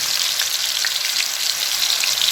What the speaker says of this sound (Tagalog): So, piprituin ko muna yung patatas niya.